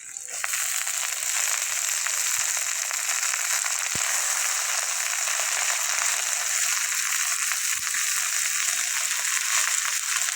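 Leafy nate shak greens are added to a pan with fried onion and chopped chilli, producing a steady, close sizzling hiss that holds evenly throughout with a few faint clicks.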